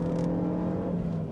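A Renault Megane RS250 Cup race car on track at Oulton Park pulls hard in third gear, its engine droning at a steady high pitch, close and loud throughout.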